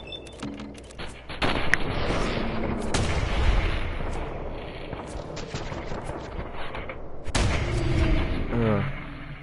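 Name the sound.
gunfire in the video game Fallout 4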